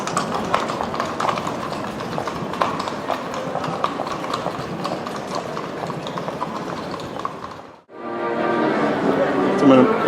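Horses' hooves clip-clop on the pavement of the busy Graben square in Vienna, with steady repeated strikes among crowd chatter and city bustle. The sound drops out briefly near the end before resuming louder.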